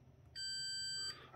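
A multimeter in continuity mode tests a fuse inside a Dell 210W laptop power adapter, giving one clear, sustained electronic beep of under a second over faint background noise.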